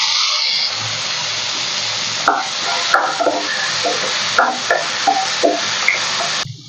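Steady, loud sizzling of onions and tomatoes frying in a pan for brinjal kuzhambu, with a spoon scraping and stirring in short, irregular strokes, ending abruptly.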